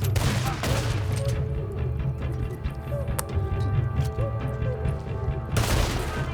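Gunfire in the video game Red Dead Redemption 2 rattles through a dense, loud, constant mix of game noise, with scattered sharp shots and a heavy burst near the start and end.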